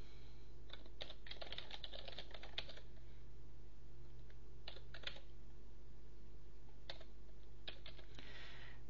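Computer keyboard typing as data is entered, with scattered clusters of quick key clicks and pauses between them over a steady low electrical hum.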